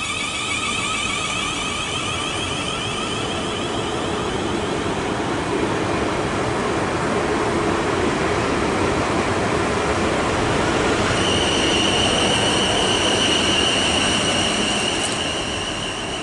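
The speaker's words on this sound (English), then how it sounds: "departing now is the 1438 Southwestern Railway service to London Waterloo from Brockenhurst." A South Western Railway train departing the station for London Waterloo, a loud steady rumble of wheels on rail with a high squeal rising later on, with no talking over it.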